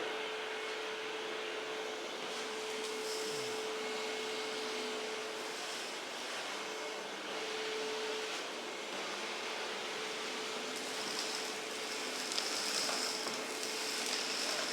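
DeWalt shop vacuum sucking up debris and bits of wire, a steady whooshing roar that holds at an even level throughout, with a faint whine and occasional light rattles of material passing through.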